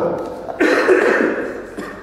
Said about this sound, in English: Thanks for the cough there, just to give me a segue there.